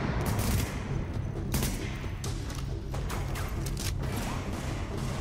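Gunfire in the video game The Division: dense bursts of automatic fire and sharp shots, loud and close, cracking repeatedly over a rumbling background for several seconds, with no voices.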